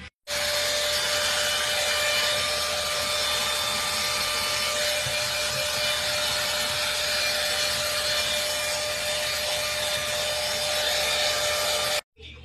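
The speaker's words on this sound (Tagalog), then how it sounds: "So, blow dry ko muna." A hair dryer blow-drying treated hair gives off a steady, close airy whoosh with a thin constant whine, running unbroken for about twelve seconds before cutting off abruptly, with no talking.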